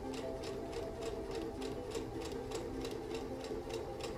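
Sewing machine stitching a seam in dress fabric, a faint steady hum with rhythmic ticking needle strokes running evenly throughout, recorded at low level.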